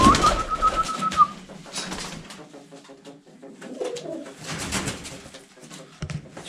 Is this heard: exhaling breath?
no